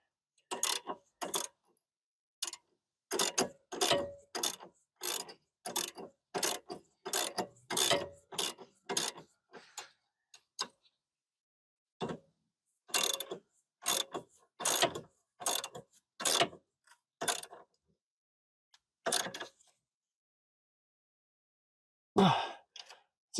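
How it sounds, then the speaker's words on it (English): A wrench tightens a sway bar link on a Chevrolet HHR, producing close, repeated short bursts of ratcheting clicks with brief pauses between strokes and no talking. "So I need a wrench to hold the shaft while I tighten it."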